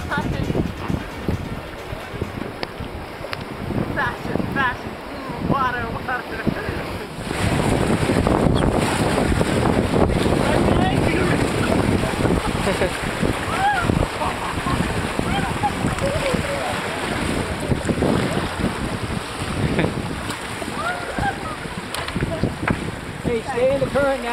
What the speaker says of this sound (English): There's a waterfall coming up.